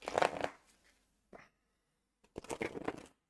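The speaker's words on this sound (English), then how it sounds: "let's finish here the shuffle" Two bursts of crisp riffling as a tarot deck is shuffled, separated by a short pause with a faint tap, close and fairly quiet.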